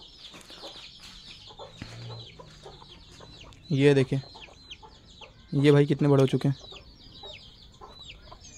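Growing young chickens, including an Aseel chick, cluck repeatedly close by with soft, clipped calls, partly under someone talking in Hindi.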